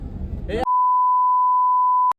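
A phone line tone: after a moment of muffled background noise, a single steady electronic tone holds clear and unbroken for about a second and a half, then cuts off abruptly.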